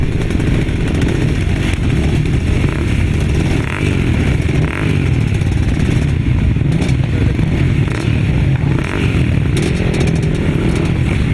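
Quad bikes revving hard off the start line at a grasstrack race meeting, engines roaring loud and continuous in a dense, overlapping snarl with no talk over them.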